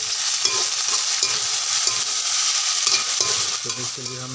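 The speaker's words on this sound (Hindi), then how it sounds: "मिक्स करते इसको।" Roasted chilies stirred into chicken liver curry frying in a pan, a steady loud sizzle with repeated spoon scrapes and stirring knocks, no voices.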